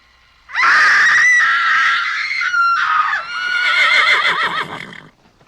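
A person's voice imitates a horse whinny: a loud, shrill, wavering neigh lasting several seconds, briefly breaking and then trailing off in shaky trills.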